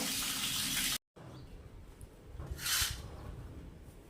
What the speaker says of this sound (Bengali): পাপোশটা জলের তলা দিয়েছি দেখো